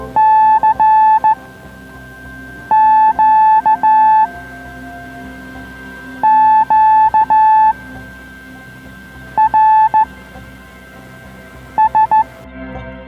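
Amateur radio signals from the CQ-QRS net on the 80 metre band, heard as repeated bursts of clear steady tones in short groups, loud over a continuous background hiss and hum, with pauses between the bursts.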